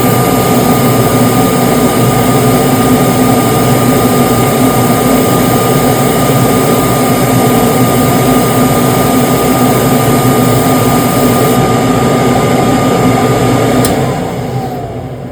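A loud, steady spray booth exhaust fan roars continuously at close range, a broad whooshing hum that cuts off and winds down near the end.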